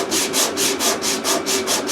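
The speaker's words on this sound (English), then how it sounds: "What's the point of videoing me sanding a bit of MDF with some filler on it?" Rhythmic back-and-forth sanding of a piece of MDF coated with filler, about eight steady strokes in under two seconds, close and fairly loud with no talking.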